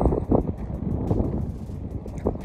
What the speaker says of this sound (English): Joe, it's windy.